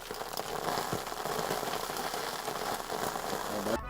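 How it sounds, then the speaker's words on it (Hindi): Foley rain made with salt and sugar: a dense, steady patter of tiny granular impacts, like rain on a surface, continuous and fairly quiet throughout. "ज्यादातर बारिश की आवाज हूबहू निकालने के लिए नमक और शक्कर का इस्तेमाल किया जाता है"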